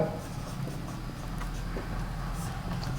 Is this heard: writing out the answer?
yes